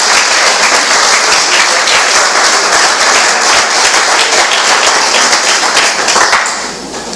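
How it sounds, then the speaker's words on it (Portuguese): A church congregation at a Sunday evening service gives loud, continuous applause, a dense steady wash of many clapping hands that holds for about seven seconds before easing slightly at the end. "Aplauda Jesus por isso."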